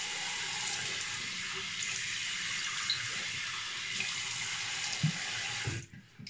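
A bathroom tap runs cold water to wet a face for a shave, a steady hissing stream that stays constant and close, with brief splashes, then cuts off near the end.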